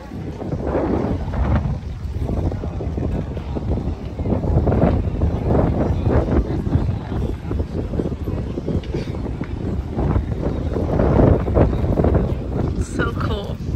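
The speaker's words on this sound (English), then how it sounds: "It's windy as F" Strong gusty wind by the ocean in San Francisco buffeting the microphone, rumbling and roaring in uneven surges throughout, with faint voices talking beneath it.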